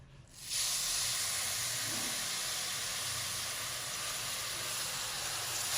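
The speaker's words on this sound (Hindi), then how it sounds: "अब हम इसमें चाशनी डाल देंगे, चाशनी जो हमने पहले से तैयार करके रखी हुई है।" Sugar syrup is poured into hot roasted semolina for halwa, setting off a loud, steady hiss of sizzling steam that rises sharply and then holds for several seconds.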